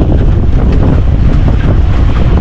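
Strong wind roars continuously across the microphone, loud and buffeting, with a rough low rumble throughout.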